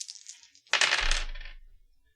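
Dice rolled for a tabletop game clatter on a hard surface, a light rattle followed by a brighter tumbling burst that settles and fades within about a second, close and alone.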